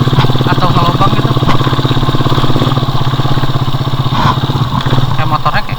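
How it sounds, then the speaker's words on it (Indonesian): Motorcycle engine running close by near a dam, a loud steady mid-pitched drone with rhythmic pulsing and some clatter, with people talking over it. "Wah, ada motor."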